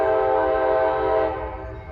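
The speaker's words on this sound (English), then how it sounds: "We got another train coming." A railroad train passes close by, its horn or strong tonal drone sounding steadily over low rumble, loud throughout and easing slightly toward the end.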